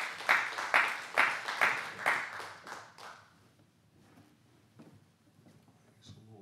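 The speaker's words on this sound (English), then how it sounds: "give the Lord a hand clap of praise" A church congregation claps hands in praise, a burst of loud rhythmic unison claps for about three seconds that then fades out, leaving quiet room murmur.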